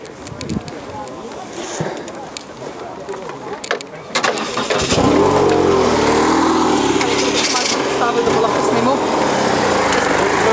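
A motorcycle engine being warmed up starts and settles into a steady, loud, close idle with rising revs, while a person talks over it.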